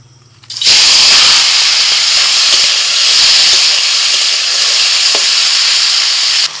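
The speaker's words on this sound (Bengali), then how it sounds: "চিংড়ি মাছ ভাজা হয়ে গেছে" Shrimp frying in hot oil, a loud continuous close sizzle and hiss that starts abruptly and holds steady, with faint spatters and no voices.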